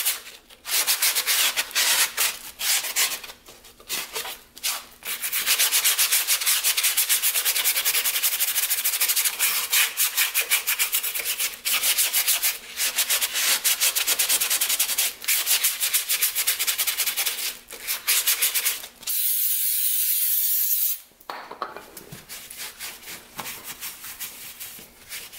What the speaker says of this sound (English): As you can see, they're pretty rusty, so let's take some sandpaper, go through those quick.